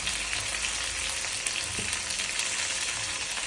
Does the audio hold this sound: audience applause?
no